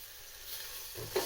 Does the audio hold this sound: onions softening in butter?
yes